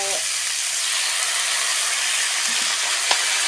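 Cucumber stir-fried with egg, garlic and glass noodles sizzles in a hot pan as a steady, even hiss with an occasional faint clink of a utensil.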